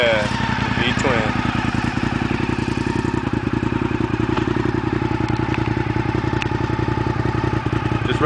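A 2005 Honda RC51 RVT1000 V-twin with a full Sato exhaust runs with a steady, pulsing, close, loud rumble, while people talk faintly over it.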